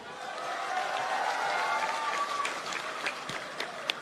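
Crowd at a protest rally in Gobindgarh bursts into dense clapping and hand-claps, a thick, even patter of applause that holds steady, with a few sharper isolated claps near the end.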